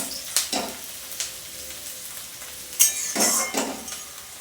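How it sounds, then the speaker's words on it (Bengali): Onions frying in a pan with a soft background sizzle, broken by several clinks and scrapes of a utensil against the pan, moderately close. "তো দেখো আমার পেঁয়াজগুলোকে লাল লাল করে ভেজে নেওয়া হয়ে গেছে।"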